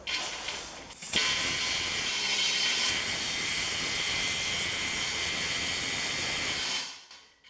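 A pneumatic needle gun roars in a loud, steady, hissing rattle that holds at full power for several seconds before cutting off, close by and without speech.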